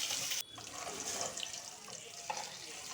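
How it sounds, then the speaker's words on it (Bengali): Egg batter fries in hot oil in a wok as a bright, crackling sizzle. The sizzle dips sharply for a moment and then steadies, with a small pop near the end. "কড়াইয়ের তেল গরম হয়ে গেলে ভাজা বসিয়ে দিলাম"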